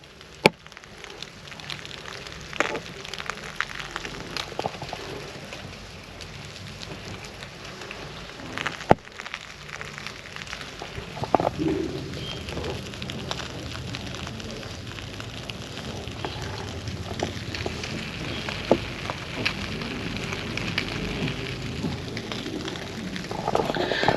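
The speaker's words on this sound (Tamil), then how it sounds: "அது வந்து அப்படியே ஒரு மாதிரி லிக்விடாக மாறுது." Cleaning foam sprayed into a car's AC vents turns to liquid and drains, giving a steady soft fizzing, crackling trickle with scattered small pops, close and continuous throughout.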